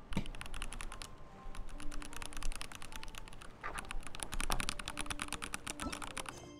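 Rapid computer keyboard typing, a dense run of clicky keystrokes with a brief pause near the middle, heard during a Genshin Impact gaming session with faint game sounds underneath.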